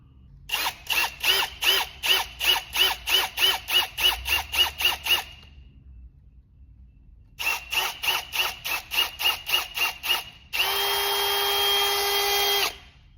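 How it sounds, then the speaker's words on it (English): A power drill whirs in rapid pulsing bursts, pauses, pulses again, then finishes with a steady continuous run, drilling a hook-hanger hole in a handmade humpback jerkbait fishing lure; close and loud. "So I need to actually drill one more hole in the top right there"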